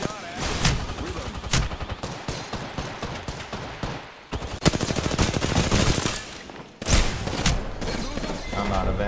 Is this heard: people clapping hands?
no